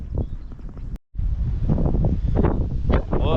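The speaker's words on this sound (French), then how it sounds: "Un peu de vent là" Wind gusts buffet the microphone in a steady, loud roar during a bike ride through Amiens, with a brief dropout about a second in.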